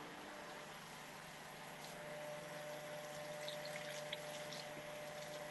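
Tap water running steadily while greens are washed in a kitchen, a continuous faint rushing stream with a few small splashes and clinks toward the end, no voices.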